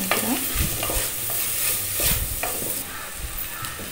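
Crushed ginger and garlic stirred into a hot frying pan for corn pulao, a steady sizzle with repeated scraping strokes of a spoon, close and fairly loud, no talking.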